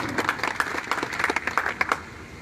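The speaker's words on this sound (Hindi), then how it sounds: "तालियां थोड़ी कम बजी।" An audience at a political gathering applauds in a short, somewhat thin burst of clapping, uneven individual claps audible, fading after a couple of seconds.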